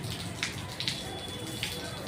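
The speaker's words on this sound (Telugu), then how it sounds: "చూడండి, విపరీతంగా వర్షం వేసి పడుతుంది" Heavy rain pouring in Palakonda town, a dense constant wash of falling water with a few sharper splashes, close and loud.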